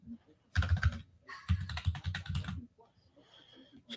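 Keys clattering on a computer keyboard in fast bursts, loud and close, with short pauses between runs of taps and a faint tone near the end; no one speaks over the typing.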